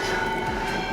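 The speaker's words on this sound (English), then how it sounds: "You can hear the chimes right there in the background from the church." Church bells chime in the background, a steady ringing tone with sustained overtones that holds at an even level through a very short stretch.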